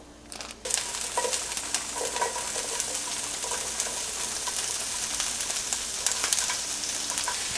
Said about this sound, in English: This oil is ready for our onions, so we'll add them in now.